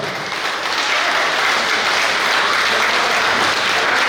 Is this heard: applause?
yes